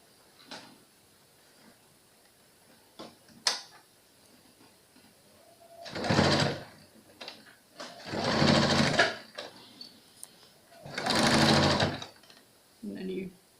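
Sewing machine stitching a pleated fabric face mask, running in three or four short bursts of fast mechanical chatter separated by quiet pauses and small handling clicks.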